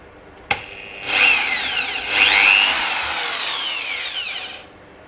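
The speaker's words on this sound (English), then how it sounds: "So now I'm going to drill a pilot hole" After a sharp click, a power drill spins up and bores a pilot hole into wood for a guitar build in two close bursts with rising and falling whine, near and loud.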